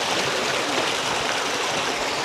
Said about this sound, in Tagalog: Current ng tubig.